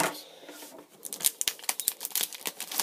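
Scissors snip and tear open the wrapper of a card multipack of Match Attax trading cards. A quiet rustle comes first, then a run of sharp crinkling cuts and rips close up.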